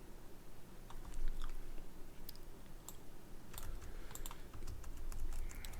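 Keyboard typing while writing a MySQL join query on the employees sample database, a steady run of soft, close clicks and key taps with brief pauses over a low background hum; no talking.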